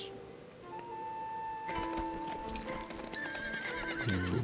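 Cavalry horses in a video game gallop and neigh: steady hoofbeats run under loud whinnies and shrill calls, with a dense battle-style soundscape throughout.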